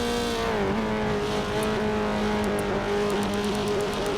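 Mazda MX-5 Cup race cars at Sebring drone past at full speed, a loud steady engine tone holding high revs with a slight pitch dip early on and faint ticking overhead.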